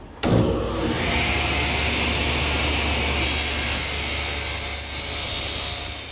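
Table saw ripping wooden pieces lengthwise along the fence in a woodworking shop: the blade spins up, then a steady, loud whirring cut continues with a slight rise in pitch partway through, with no voices.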